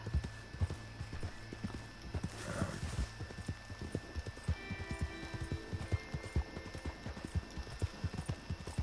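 Repeated hoofbeats from a horse galloping in the Red Dead Redemption 2 video game, a steady clip-clop rhythm running through the whole stretch, close and fairly loud, with a brief whinny-like burst near the start.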